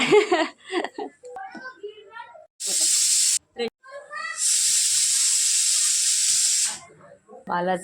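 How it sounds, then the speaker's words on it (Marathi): A pressure cooker on a home kitchen stove lets out two bursts of steady, loud hissing steam, a short blast followed by a longer one of about two seconds, with people chatting before and after. "रेशमाने कुकर लावलेला आहे"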